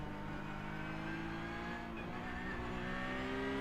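Race car engine in a racing video game at Virginia International Raceway, a loud steady drone holding high revs with rising and falling pitch through the whole stretch, no voices.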